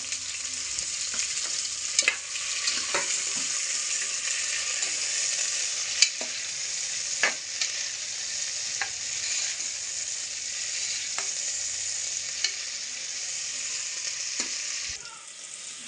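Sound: green chillies frying in oil for mutton curry

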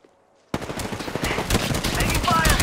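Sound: gunfire in the video game Apex Legends

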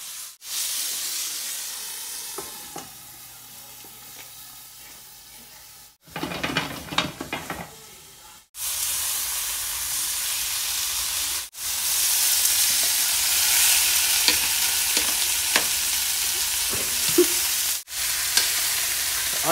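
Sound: onions frying in pan for liver and onions

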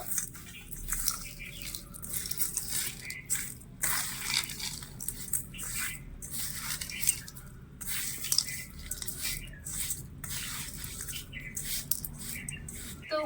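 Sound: stirring sugar into watermelon pieces in a bowl

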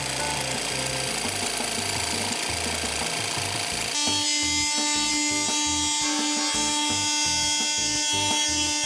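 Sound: sanding an MDF board with sandpaper

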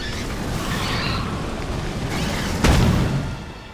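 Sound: explosion in the video game Aliens: Colonial Marines

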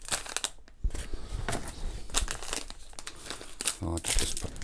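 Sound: paper packaging being crumpled

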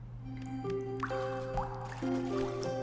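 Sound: dripping ice cave river water in the video game Toki Tori 2

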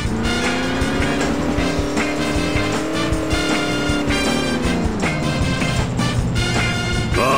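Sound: car accelerating in The Simpsons Hit & Run video game

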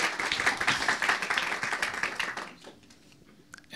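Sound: applause

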